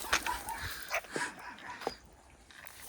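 A dog gives a few short, faint barks and yips at a distance in a quiet outdoor setting, irregularly spaced over low background noise.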